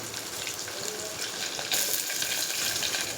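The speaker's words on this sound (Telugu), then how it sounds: "ఆనియన్, అలాగే ఎండుమిర్చి కూడా వేసేస్తున్నాను." Chopped onion and dried red chillies hit hot tempering oil for a carrot rasam, giving a loud, steady crackling sizzle that grows denser and brighter partway through, with no voices.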